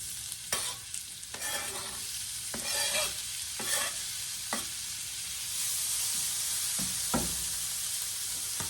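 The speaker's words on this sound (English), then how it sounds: "we're going to get our onion in the pan" Chopped onion sizzles steadily in a hot pan for a cold-weather chili, with a few scraping stir strokes cutting through the constant close, bright hiss.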